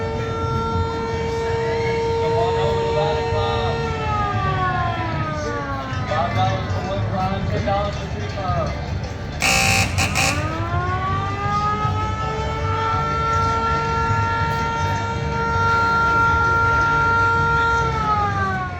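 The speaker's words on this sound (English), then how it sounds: "if somebody wins the ladder game and rings the bell, the fire truck siren goes off." Fire truck siren at the Carowinds amusement park ladder game, set off when a winner rings the bell: a loud wailing tone rising and falling in long sweeps, with a brief burst of noise midway and park ambience beneath.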